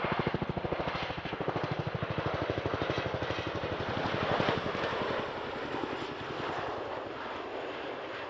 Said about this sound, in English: this is a Chinook HC6